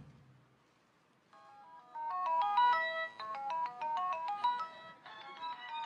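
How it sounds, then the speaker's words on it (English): A Motorola ROKR phone rings with an incoming call, a bright electronic melodic ringtone of rapid repeating notes that starts after a short quiet moment and plays clearly and loudly for several seconds, heard on stage at a 2005 Apple music event. "So I've got a call, so let me answer the call."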